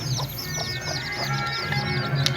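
A Peruvidai country chicken hen clucks steadily while a chorus of high peeping chicks chirps continuously around her, close by on a street.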